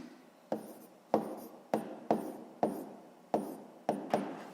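Pen strokes on paper while writing out a sixth-grade math equation, a series of about seven distinct scratchy strokes at a steady pace, close and fairly quiet, with no talking.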